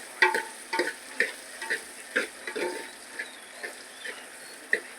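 Potatoes fry in a pan of oil while a spoon stirs them, giving a soft sizzle broken by a steady run of light scrapes and taps, close and fairly quiet, with no talk.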